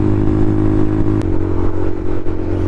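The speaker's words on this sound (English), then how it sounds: "Listen to this awesome exhaust." A Honda Monkey bike fitted with a Yoshimura exhaust revs loudly and close by, a steady rasping engine note with a brief sharp spike partway through.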